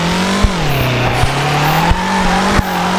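Loud engine whine of a drifting car in the video game FR Legends, shifting pitch with throttle while tires squeal continuously, punctuated by sharp gear-change clicks, with no talk.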